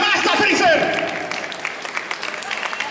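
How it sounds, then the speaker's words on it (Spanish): An audience at a cosplay contest applauds loudly, with a dense wash of clapping that starts strong, then thins and patters on while an announcer's voice cuts through near the start. "¡Fuerte el aplauso!"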